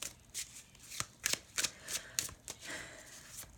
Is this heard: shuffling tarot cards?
yes